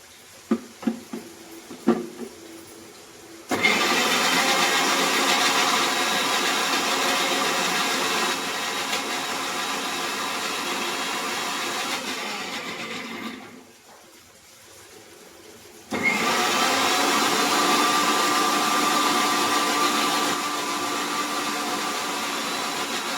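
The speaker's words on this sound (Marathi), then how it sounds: "ह्याच मिक्सरच्या भांड्यामध्ये आपण तो कांदा आपण काढून घेतलेला आहे तो मिक्सरला लावू" Mixer grinder blending onion with water: a few clicks and knocks, then a loud steady whirring grind that stops briefly and starts again at full power.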